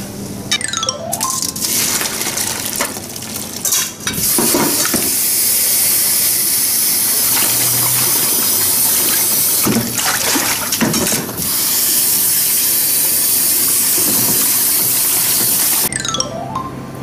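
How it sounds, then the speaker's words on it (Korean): Steady loud hiss and rolling bubbling of water coming to a boil in a pot for cooking somen noodles, close by, with occasional clatter and short bursts of noise over it. "물이 끓기 시작했습니다"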